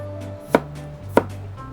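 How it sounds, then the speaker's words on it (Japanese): Two sharp knife chops strike a cutting board about half a second apart, slicing water bamboo shoot, crisp and close, over a low steady hum. "ちょっと斜めに包丁を入れていくと食べた時に歯切れがいいというか"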